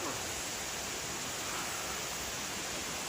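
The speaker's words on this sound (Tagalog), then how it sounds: "Ayan guys, yung falls." Shine Falls waterfall in New Zealand, a steady broadband rush of falling water heard continuously and evenly, with no break or change.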